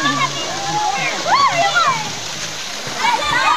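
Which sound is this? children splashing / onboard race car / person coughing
children splashing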